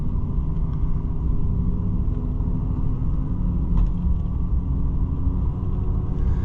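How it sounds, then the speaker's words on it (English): A Ford Super Duty 4x4 truck with a worn wheel bearing gives a steady low droning rumble and hum while it drives, constant and fairly loud throughout. "It sounds like a wheel bearing"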